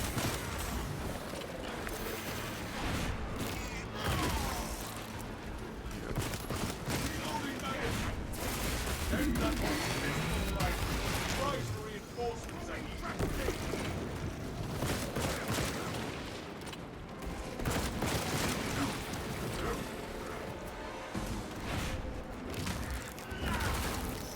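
Inferno Pistol from the video game Space Marine 2 fires in rapid, dense bursts amid loud battle noise and effects, with a voice talking over the shooting.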